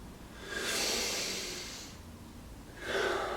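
Deep breaths drawn in and let out slowly during a guided breathing exercise, two long airy swells, close and fairly soft, with no talking.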